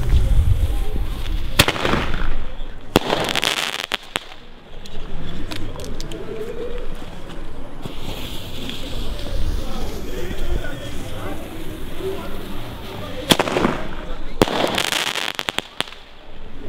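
Weco Double Strike firecrackers from Aldi, set off two at a time outdoors at night, burst in several sharp, loud bangs, some closely paired, with a crackling tail between them and voices talking nearby.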